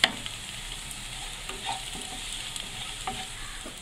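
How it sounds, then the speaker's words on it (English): Onions fry and sizzle in a kadhai as a spoon stirs them, a close, steady hiss broken by soft scraping strokes. "Stir for some time till the onions turn brown in color."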